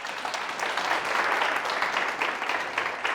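Steady applause from an audience at a spiritual meditation study gathering, dense and continuous clapping holding at an even level for the whole span, with no voices above it.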